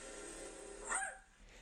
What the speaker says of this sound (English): whenever you hear that sound, this sound that's right here, whenever you hear the sound of Lily, you know that the top dog is coming up here